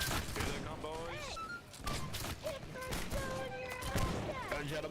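Musket volley fire from a line of infantry in the video game Holdfast: Nations At War, a crackling burst of many shots at once amid shouted commands and chatter over the battlefield.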